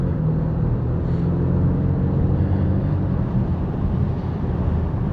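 Exhaust of a 2024 Ford Mustang EcoBoost Premium convertible while driving at night: a steady, low droning rumble with road noise, even and continuous and heard from the cabin, with no talking.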